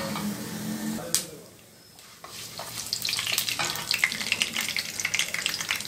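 Mustard seeds crackle and a tablespoon of moong dal fries in hot oil. The sound starts quieter, dips briefly, then builds into a dense, bright, spattering sizzle that stays steady and close, with no clear speech.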